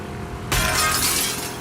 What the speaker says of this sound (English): Smash that glass, Ellie.